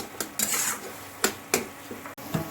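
Prawns with mustard paste and taro leaves cooking in a pan with a little water, worked by a spatula: sparse, close scrapes and metallic clinks against the pan over a low background, with no talking.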